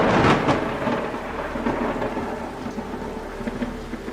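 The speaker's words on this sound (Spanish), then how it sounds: "El cielo se rompió en una lluvia torrencial." A thunderstorm sound effect with torrential rain: a heavy, rumbling thunder roll up front that fades into a steady, dense roar of downpour, loud and continuous with no voices.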